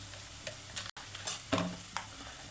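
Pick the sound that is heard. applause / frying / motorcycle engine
frying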